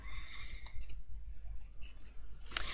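Small craft scissors cutting a paper flower out of a card: quiet, close snips and paper rustles, ending in one sharper clip, with no talking.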